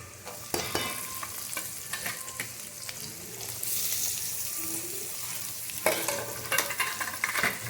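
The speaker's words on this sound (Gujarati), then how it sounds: "હવે પહેલાં આપણે એની અંદર ઓનિયનને સાતરી દઈએ." Chopped onion sautéing in a pan with turmeric for tuvar dal, a steady close sizzle and frying hiss with occasional stirring scrapes and clinks, no talk.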